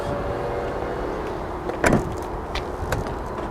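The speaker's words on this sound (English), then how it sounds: "So you can press that button, it will automatically close that and keep the car locked" Volvo XC60 T5 Inscription power tailgate closing on its own with a low motor whir, then a firm thud as it latches shut, followed by a fainter click as the car locks.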